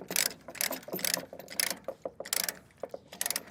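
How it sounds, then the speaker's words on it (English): A hand-turned ratchet chain binder is cranked and tightened, giving repeated bursts of sharp metallic ratcheting clicks in an uneven rhythm, close and fairly quiet, with no voices. "I'll typically just grab onto this bar here, turn it with my hand, and pull on the lever."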